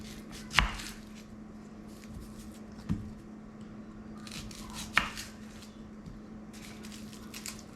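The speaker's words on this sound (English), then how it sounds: "Peel this onion." A knife cuts through small yellow onions on a board, giving three distinct sharp chops spaced a couple of seconds apart, with faint rustling of peeling between them.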